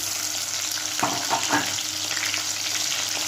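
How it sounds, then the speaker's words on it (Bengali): Chopped tomato, whole garam masala and a dried red chilli hit hot oil in a pan, producing a loud, steady close sizzle with a few brief stirring scrapes partway through. "এখানে তেল গরম হয়ে গেছে আমি গোটা গরম মশলা একটা শুকনো লঙ্কা এখানে টমেটো কুচিটা দিয়ে দিলাম"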